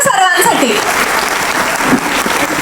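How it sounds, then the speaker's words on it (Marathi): An audience at a business product launch event bursts into loud, dense clapping that carries on steadily, with a voice briefly audible at the start. "मला वाटतं पहिल्यांदा सर्वांसाठी जोरदार टाळ्या झाल्या पाहिजे"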